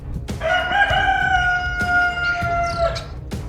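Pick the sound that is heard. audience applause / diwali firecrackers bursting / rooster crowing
rooster crowing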